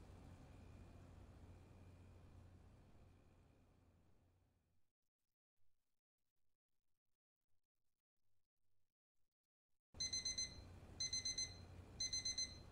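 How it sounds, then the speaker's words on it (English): An alarm clock in a horror video game beeps loudly in repeated bursts after a near-silent stretch, preceded by a low steady hum that fades out. "I gotta get a better alarm clock."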